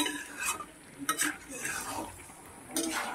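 Chicken and spices frying in a pot, a low sizzle under repeated scraping stirs and light metallic clinks of a spoon against the pot, with no talking.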